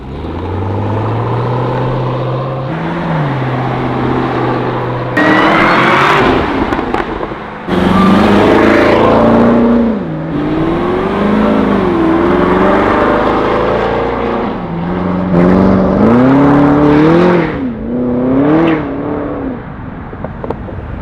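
A Cadillac CTS-V Wagon engine revs hard under acceleration while driving, its loud, rising growl climbing repeatedly through several gear changes, with no talking.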